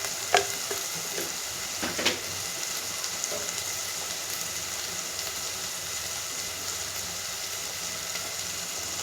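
Masala powder is stirred into a country-style gorakalu curry in a hot pan, giving a steady close sizzle with a few clinks and scrapes of the spoon near the start and no talking.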